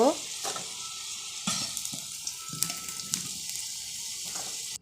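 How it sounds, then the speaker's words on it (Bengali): Potatoes fry in hot oil for an alu potol dum, a steady close sizzle running throughout with occasional sharp clinks and stirring scrapes. "এবার আলুগুলোকেও লাল লাল করে ভেজে নেব"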